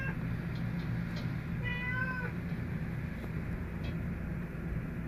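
A single short, high kitten meow rises briefly over a steady low hum and background noise, with no voices.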